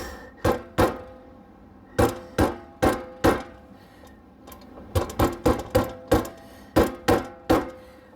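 A banjo 5th string nut being tapped into its hole, giving a run of sharp, close wooden knocks in small irregular clusters, about twenty taps, each short and distinct over a quiet background.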